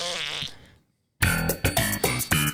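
A fart, loud and close, opening with a long buzzing blast, then a short silence and a string of several punchy, bassy rhythmic pops with no talk.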